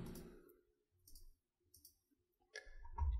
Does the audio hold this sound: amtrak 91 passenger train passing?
no